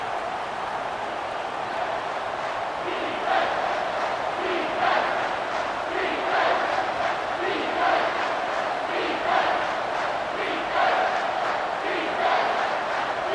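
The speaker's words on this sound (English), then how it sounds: "Third down, and this crowd is tearing the lid off this place." Packed stadium crowd in a College Football 25 simulation, Alabama against Tennessee, roaring on third down as a steady loud wash with rhythmic chant-like swells pulsing every second or so.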